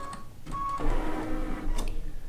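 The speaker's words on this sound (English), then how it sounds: "now we're going to move the carriage. It will cut the thread" A Baby Lock quilting machine tying off, cutting its thread and shifting the carriage, with a steady mechanical whir, a brief motor whine and a few short clicks and clacks close by.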